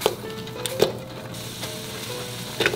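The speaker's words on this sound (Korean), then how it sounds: "고추기름을 아주 조금만 넣어주었습니다. 그리고 양파를 넣어주세요." Onion dropped into a little chili oil in a pan for Korean braised chicken, sending up a close, steady sizzle with a few clattering knocks and scrapes at the start and end.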